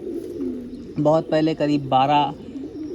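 A pigeon brought in from a breeder's loft coos in a few close, drawn-out phrases, with someone talking softly before and after.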